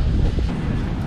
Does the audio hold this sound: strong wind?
yes